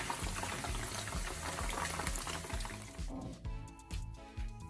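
Tofu for an anchovy dish cooks in a pan with a dense, steady bubbling and sizzling, close and fairly loud, thinning out toward the end with a few clinks.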